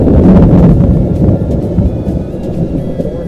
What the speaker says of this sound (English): What rain though.